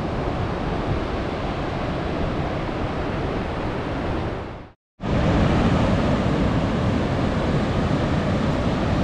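Pacific Ocean surf at high tide on the Oregon coast roars as a continuous wash of broadband noise, briefly cutting out for a moment before resuming, with wind buffeting the microphone.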